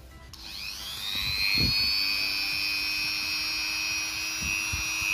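A modern mini electric drill-grinder (mini bor) spins up at speed setting one, a steady high-pitched whine that starts abruptly and holds smooth and continuous, fairly close, with a few soft handling knocks beneath.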